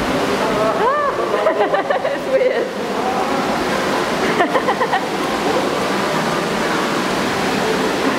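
Water running down a walk-through waterfall walkway at teamLab Planets in Tokyo, a steady close wash of flowing, splashing water throughout, with people talking over it.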